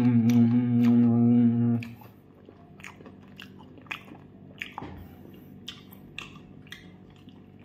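Someone eats a crunchy mushroom and tomato dish. A steady tonal sound fills the first two seconds, then scattered soft crunches and bites follow close up in a quiet room.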